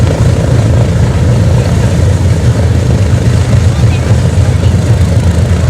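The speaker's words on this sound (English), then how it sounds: "This is a B-29 bomber, Fifi." Engines of a Boeing B-29 Superfortress bomber drone in a loud, steady, unbroken roar heard from on board the aircraft, with deep low rumble throughout.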